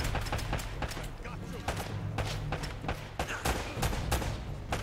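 Rapid bursts of gunfire in the jungle action game Uncharted, with dense repeated shots and sharp cracks close up, continuing steadily throughout.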